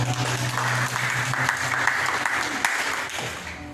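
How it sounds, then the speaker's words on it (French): A church congregation applauds, a sustained crowd of clapping hands that holds steady throughout, with some voices mixed in underneath. "Je l'applaudis ici."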